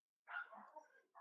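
The speaker's pet dogs bark and whimper at home, a short burst of yapping and whining cries that comes faint from another room, then a second bark begins at the end.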